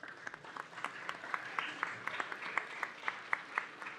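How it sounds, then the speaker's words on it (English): Applause at a city council meeting comes as a faint, distant round of clapping with distinct individual claps, steady for several seconds in a large room. "All right, another big round of applause."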